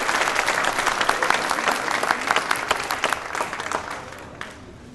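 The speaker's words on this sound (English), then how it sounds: "Applause for all of the graduates." Applause for high school graduates at a LEAP graduation ceremony, with a crowd clapping loudly and densely, then tapering off over the final seconds.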